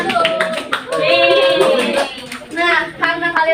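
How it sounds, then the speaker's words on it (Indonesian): Students in a classroom clap together, a scattered burst of hand claps rising and falling over a few seconds, with children's voices chattering underneath. "Oke, tepuk tangan dulu."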